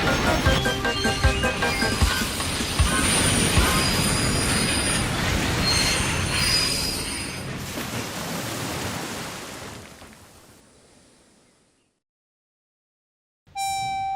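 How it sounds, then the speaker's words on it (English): Toy model train engine rumbling and squealing along the rails over ice before derailing, loud and dense at first, then fading away to silence, followed by a brief tonal sound at the end. "The new engine closed his eyes as he sped over the lump of ice and came off the rails."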